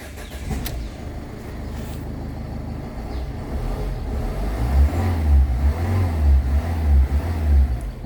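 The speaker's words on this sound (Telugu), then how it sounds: "ఒకసారి వెహికల్ కూడా స్టార్ట్ చేస్తున్నాను" A 2019 Ford Aspire diesel with manual transmission starts up, then its engine revs in strong low, throbbing surges from close by, alone with no talk.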